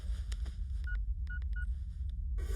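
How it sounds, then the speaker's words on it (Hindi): Telephone number being dialed, a quick series of short keypad tones over a low background hum, with no speech. "अभी फोन लगाता हूँ।"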